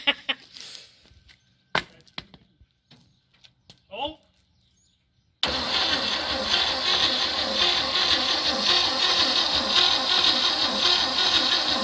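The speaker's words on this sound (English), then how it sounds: "We gotta hit the starter." After a few seconds of sparse knocks and near quiet, a 1957 Chevy 210 engine abruptly cranks and starts, then runs loud and steady with a pulsing rhythm.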